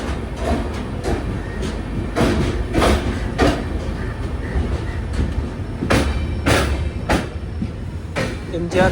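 The Coromandel Express sleeper train pulling out of Chennai, with rhythmic clatter of wheels over rail joints and periodic bursts of carriage rattle, heard close from inside the coach.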